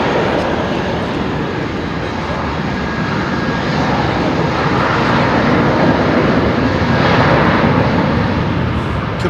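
A China Airlines jet airliner at London Heathrow gives a loud, steady, broadband engine roar that holds throughout without any break.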